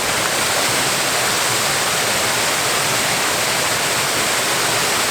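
A waterfall at the Fiery Gizzard roars in a steady, dense broadband wash of rushing water, constant and close with no breaks or voices.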